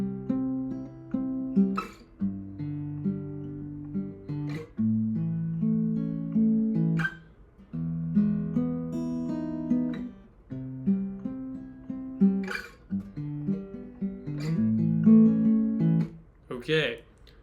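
Guitar playing a song's interlude in standard tuning with power chord shapes: steady strummed chord bursts in a repeating rhythm, separated by brief pauses and string scrapes, close and clear with no talking.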